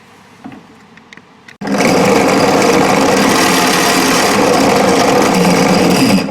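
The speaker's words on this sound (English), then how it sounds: "Now we're going to drill 1 through there, but only halfway through." Power drill boring a hole through a homemade tent rope tensioner, starting abruptly after a few small handling taps and then whining steadily at high speed, loud and close with no talk.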